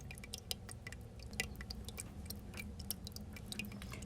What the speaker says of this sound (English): you might hear water behind you because the lighting that I'm using today is a little bit, it's kind of a plant